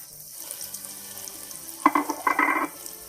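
Sliced onion dropped into hot oil with garlic, giving a brief burst of crackling sizzle and stirring noise after quiet kitchen background, fairly close and without talk.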